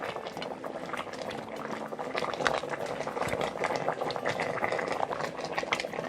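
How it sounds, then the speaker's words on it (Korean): A pot of spicy braised pork ribs stew boils vigorously, its dense bubbling and gurgling steady and close, growing slightly stronger partway through, with no speech. "40분 동안 끓여 주었는데요"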